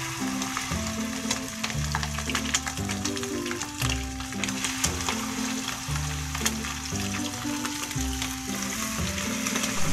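Chicken pieces fry in hot oil in a pan, giving a loud, steady sizzle all the way through, while background music with a low melodic line plays underneath.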